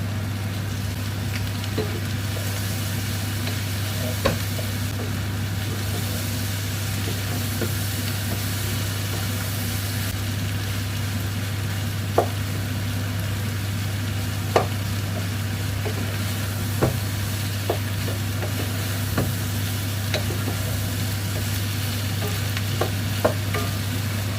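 Tomatoes frying in a pan of mixed vegetables give a steady, even sizzle under a constant low hum, with occasional faint clicks of stirring and no voices.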